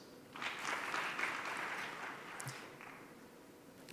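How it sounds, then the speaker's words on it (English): Audience applause for participants at a Kenyan diplomatic dialogue event, a moderate, steady patter of clapping from a fairly small crowd lasting several seconds, slightly distant and even throughout. "So please give them a round of applause"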